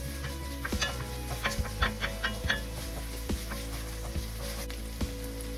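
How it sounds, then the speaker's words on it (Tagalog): Onions sizzle in a pan for giniling afritada, a steady close frying hiss with repeated scrapes and taps of a utensil stirring them. "you can add your onion. So you just have to wait until your onions are caramelized."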